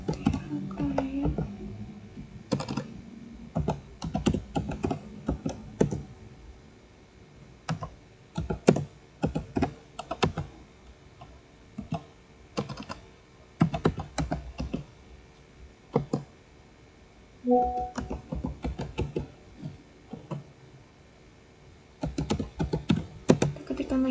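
Rapid bursts of clicking keystrokes on a computer keyboard as terminal commands are entered, close and steady with pauses between runs, while someone speaks over much of it.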